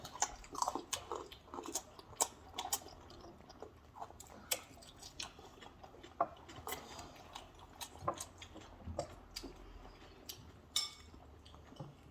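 Someone chews a crunchy snack close by, with quiet, irregular crunching and biting sounds repeating across a soft, hushed background.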